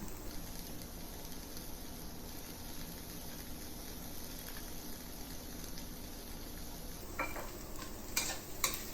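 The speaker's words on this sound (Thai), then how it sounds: "ผัดคลุกเข้าให้เข้ากันค่ะ" Eggs stir-fried with celery and tomato hiss steadily in a pan for several seconds, then a spatula scrapes and taps against the pan in a few close strokes near the end; nobody speaks.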